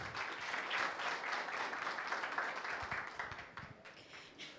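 Audience applause at a consumer-defence committee public hearing in Angra dos Reis, a room of steady clapping that swells early and gradually thins out over a few seconds.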